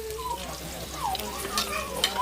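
Masala frying in a pan for a spicy chicken-bone curry: a short, close burst of sizzling with soft stirring scrapes.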